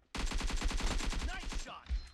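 Rapid automatic gunfire in PUBG Mobile team deathmatch, a steady burst of about fifteen shots in quick rhythm, loud and close, ending in a final heavier shot.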